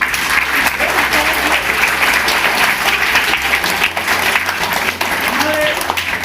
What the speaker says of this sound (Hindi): विनय जी की बहुत अच्छी सेवाएं, विनय जी के लिए तालियां बजाओ।